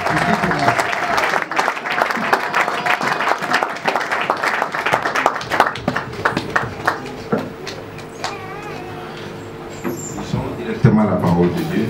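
A church congregation applauding and cheering, dense clapping that swells early and then thins into scattered claps under voices and a held organ-like tone, with people talking throughout.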